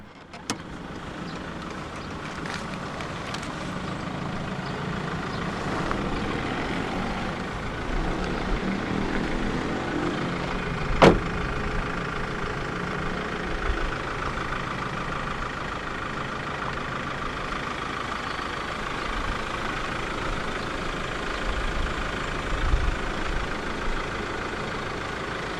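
A 2015 Ford Ranger 2.2 diesel XLT 4x4 double cab idles steadily, a low, even engine rumble heard up close with a single sharp click midway.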